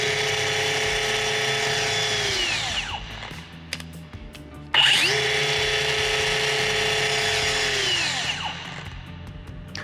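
An AG 6D-22 angle grinder whines up to a high steady speed, then spins down and falls quiet, followed by a second run-up and gradual wind-down, heard close.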